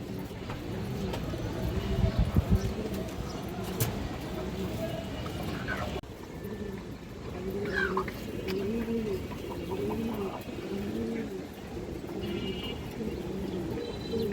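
Pigeons in a breeder's loft cooing in repeated soft, rolling phrases close by, with someone talking over them and occasional shuffling and clatter.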